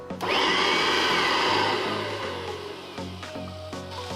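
A Kirby Legend 2 vacuum cleaner with its power nozzle fitted starts up with a loud whining motor that quickly reaches a steady high roar, easing slightly and then holding, close by and with no talk.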